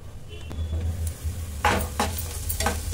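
Onions frying in a pan while being stirred now and then, a low steady sizzle broken by a few scraping strokes of the spoon and light metal clinks, close by with no talking.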